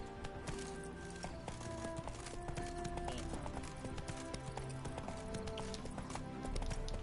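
Roach, the horse in The Witcher 3, gallops steadily, with rhythmic hoof clip-clops in a game soundscape, fairly faint, and a brief voice heard faintly.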